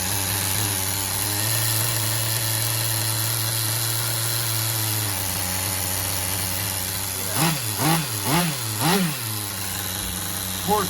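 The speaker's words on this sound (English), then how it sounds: "it's single stage idling" A Tamiya TGS-R nitro RC car engine idles with a steady, buzzy drone, then gives several quick, loud throttle blips in a row near the end.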